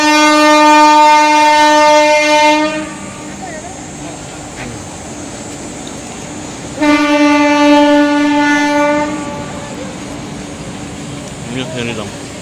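A train nears a level crossing and sounds a loud, steady horn blast for about two and a half seconds, then a second long blast, over the rumble of the passing train.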